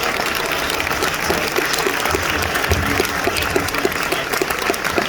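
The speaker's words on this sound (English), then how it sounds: "Give these people a big round of applause." An audience at a comedy and mentalism show claps steadily and enthusiastically, a dense, sustained round of applause with no talking over it.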